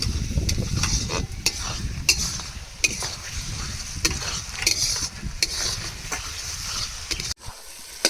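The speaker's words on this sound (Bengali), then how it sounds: "এবার মশলাটাকে ভালোভাবে কষিয়ে নিতে হবে।" Spice paste of turmeric and cumin powder being stirred and fried in a pan for a country chicken curry, a close, loud, steady sizzle broken by regular scraping strokes of the spoon, no voices.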